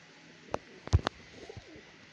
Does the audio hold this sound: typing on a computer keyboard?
no